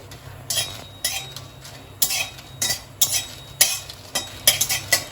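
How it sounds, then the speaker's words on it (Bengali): Dried red chillies fry in a kadai, with a low sizzle under repeated metal scrapes and clinks as a spatula stirs them against the pan in an uneven rhythm. "লঙ্কাটা একটু ভালো মতো ভেজে নিতে হবে।"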